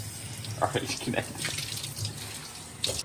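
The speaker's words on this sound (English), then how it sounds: "You just pet that lettuce, baby, and then you just keep washing it." Lettuce washed under a running faucet in a school foods-class kitchen: a steady low tap-water hiss with soft splashing bursts as leaves are handled, under faint talk nearby.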